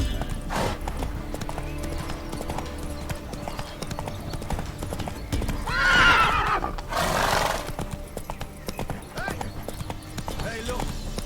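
Roach the horse in The Witcher 3 gallops with rapid hoofbeats, then lets out a loud, close neigh and snort midway, with voices speaking over parts of it.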